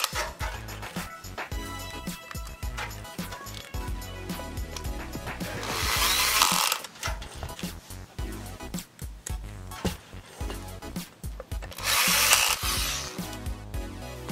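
Screws are driven into the side of a PC case for a Ryzen 2700X build, giving close, irregular clicking and ratcheting with two longer bursts of a buzzing power screwdriver.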